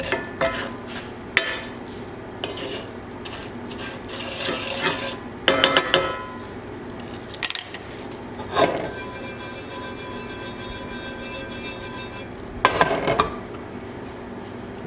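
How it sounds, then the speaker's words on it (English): Panko crumbs toast in a pan over low to medium flame and are stirred, a utensil scraping the pan with repeated clinks and scrapes over a faint sizzle. The stirring comes in bursts, close and moderately loud, and no one speaks. "Just going to mix it around because it'll burn if you don't"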